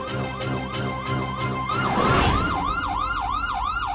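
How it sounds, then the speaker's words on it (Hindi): A wailing police siren sweeps up and down repeatedly, loud and close, rising into a faster yelp pattern with some background noise. "ये एम्बुलेंस की नहीं पुलिस सायरन की आवाज है।"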